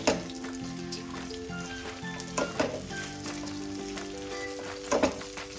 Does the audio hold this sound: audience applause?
no